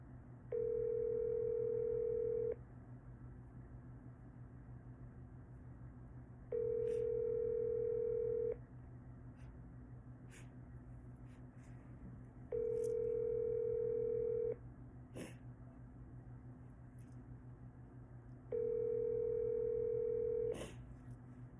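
Telephone ringback tone repeating four times in a steady pattern, two seconds on and four seconds off, unanswered, over a constant low hum.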